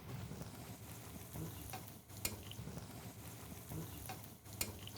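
Rolled dough deep frying in fresh oil gives a soft, steady sizzle broken by faint clinks of utensils, quiet and close, with brief speech in the background.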